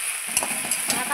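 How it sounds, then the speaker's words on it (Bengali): Red spinach greens being stirred in a hot pan, a steady sizzle with a few soft scraping strokes of the spatula at irregular intervals, close and alone. "এবার আমি শাকটা নেড়ে"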